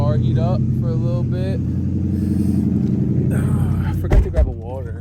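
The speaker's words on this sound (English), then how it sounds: "they doing a whole bunch of burnouts" Cars at a car meet roar with a deep, continuous engine rumble and a couple of sharp revving bursts near the end, running under close, steady talk.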